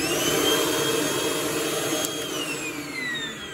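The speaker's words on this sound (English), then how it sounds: "I just have my Milwaukee portable vacuum hooked up to the pocket jig." A Milwaukee portable vacuum hooked up to a pocket jig whirs steadily at close range, a continuous high-pitched motor drone holding level throughout with no voices.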